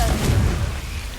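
A Confringo blasting spell in Hogwarts Legacy goes off as a loud, low, rumbling explosion that fades over about a second.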